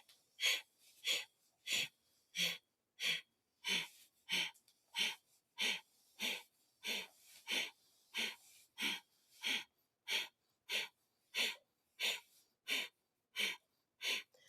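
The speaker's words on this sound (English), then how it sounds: "So active, forceful exhalation and passive inhalation. That is Kapalabhati." Kapalabhati yoga breathing, about twenty-two sharp forceful exhalations through the nose in an even rapid rhythm, close and clear with quiet gaps between them.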